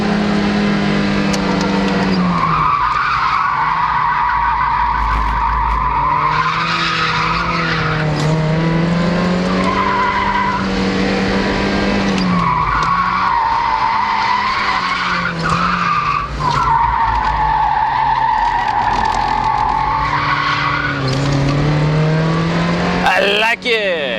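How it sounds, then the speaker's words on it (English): A Mazda Miata drifts at a drift event, its tires squealing and skidding in long, loud, wavering screeches over the engine's drone, with several sustained slides in a row. "I think I remember how to drift."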